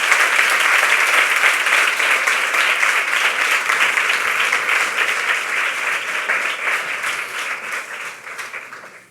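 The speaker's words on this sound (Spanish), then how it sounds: "Un aplauso para ellos." Audience applauding presenters at a women's health alliance launch, sustained dense clapping from a large crowd, strong and even before tapering off at the end.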